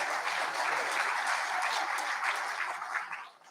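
Audience inside the historic Sebastiani Theater claps in a dense, even burst that holds for a few seconds and then fades out.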